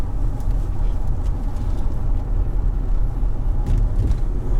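A Range Rover L322 drives along a road with a continuous low engine and road rumble inside the cabin, steady throughout with no distinct braking event.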